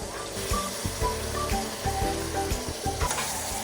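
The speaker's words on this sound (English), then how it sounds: "We're basting the steak." Steak sizzles steadily in a pan while being basted with butter, with a continuous crackling fry and faint spoon movements, close up and without talk.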